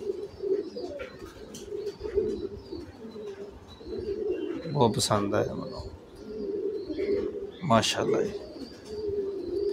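Pigeons coo in a low rolling murmur under steady conversation between men, with two louder close bursts of fluttery calling partway through.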